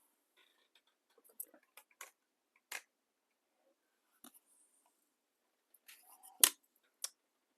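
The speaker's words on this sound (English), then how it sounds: "I have to cut another spot up here." Scissors snip through cork fabric while sewing a cork wallet, a sparse series of crisp, close clicks and short cuts separated by near silence, a few louder snaps toward the end.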